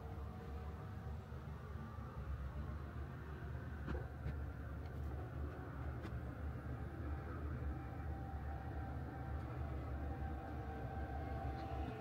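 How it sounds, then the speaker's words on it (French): A metro train ride in China on the way to the Canton Fair: a steady, loud rumble of the carriage rolling along, with continuous wheel and rail noise and faint higher rattles. No one speaks. "je vais y aller en métro"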